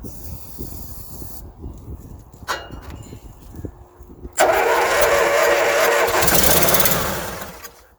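A Craftsman zero-turn mower engine cranks briefly, pauses, then catches and fires, running loud and close with a steady roar for several seconds before easing off slightly at the end.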